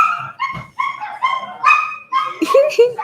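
Puppies barking and yipping in quick, high-pitched bursts, several voices overlapping up close with a few whimpers mixed in.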